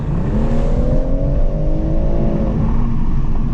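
Loud BMW M140i engine revving hard under acceleration, the pitch climbing steadily and then easing off, close and continuous.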